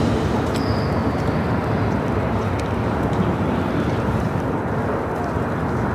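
Boeing 737-800 airliner departing LAX, heard as a continuous loud, broadband jet roar mixed with wind buffeting on the microphone, steady throughout with no clear voices over it.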